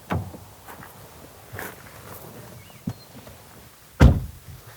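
A Volkswagen Golf R door is opened, with faint clicks and light handling noises leading to a firm, close thunk near the end of the few seconds.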